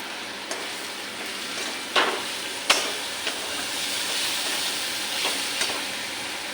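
Spices sizzle in a hot pan before pasta goes in, with a steady loud frying hiss and a few sharp scrapes and clicks as they are stirred close by.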